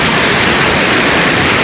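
Very cold mountain river water rushing in a scenic valley between Kalam and Blue Water, a dense continuous roar of flowing water, loud and steady throughout.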